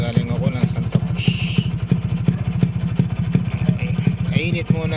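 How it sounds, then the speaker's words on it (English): A Kawasaki HD3 125cc motorcycle engine warms up on a road, a steady rapid single-cylinder putter with clattery pulses, loud and close throughout with some brief higher noises mixed in. "Mainit muna si Kawasaki."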